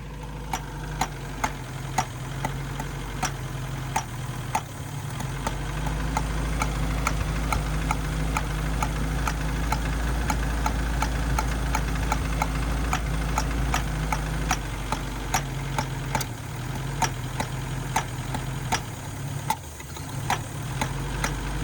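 An abandoned Mercury Capri turbo engine running after 23 years, a rough steady idle with a rapid ticking knock throughout, close and loud, the rhythm faltering briefly near the end.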